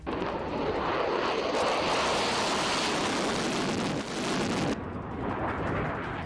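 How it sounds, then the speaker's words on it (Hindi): Chinese fighter jets roar over the border areas near Taiwan as a loud, continuous broadband rumble that stays steady for several seconds and then eases slightly, with no voices. "जब ताइवान के सरहदी इलाकों में चीन के लड़ाकू विमान ऐसे गरजते होंगे।"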